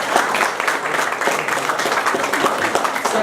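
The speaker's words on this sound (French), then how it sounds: "Et vous pouvez les applaudir, hein" An audience applauding at a medal ceremony for the FNBPC in Oradour-sur-Glane, a steady, dense wash of clapping held at an even level for the whole stretch, fairly close and continuous with no pauses.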